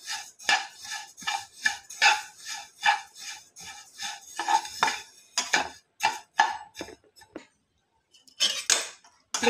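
Sesame seeds dry-roast in a pan, with a rhythmic run of sharp metallic scrapes and clinks from stirring. The strokes come quick and close, then pause briefly near the end before resuming.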